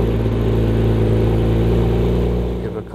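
A 2021 Porsche Macan S engine on a cold start, a loud close rumble that swells with a throttle blip and holds before easing off at the end.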